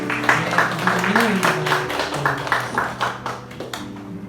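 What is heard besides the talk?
audience applauding to welcome a church member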